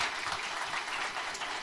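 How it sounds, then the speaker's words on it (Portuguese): A church congregation applauds a volunteer, a brief, fairly soft burst of steady clapping from a crowd, with no talking over it. "Você pode aplaudir a nossa voluntária."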